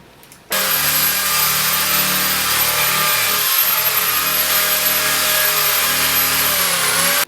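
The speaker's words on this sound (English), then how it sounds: "But what we use this power-mounted apparatus on a drill." After a brief quiet start, a loud continuous whirring drill with a mounted brush scrubbing a waxed snowboard runs steadily until it cuts off at the end.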